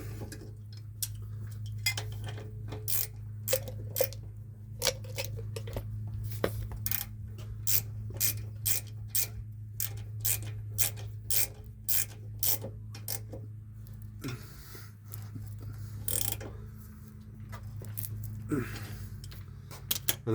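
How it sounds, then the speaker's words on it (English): A ratchet clicks in fast, steady runs of sharp metallic ticks, broken by short pauses, as a brake caliper slide pin bolt is tightened on the rear brakes of a 2010 GMC truck. A low hum runs underneath throughout. "I'm going to take my pliers and I'm going to hold this slide pin free while I tighten."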